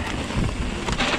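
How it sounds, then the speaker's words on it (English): Strong wind roars on a trail in South Wales, a loud, close, buffeting rush against the microphone lasting about a second, no talk. "So windy here."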